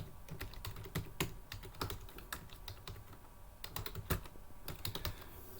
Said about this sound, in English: I'm going to type in just a couple more.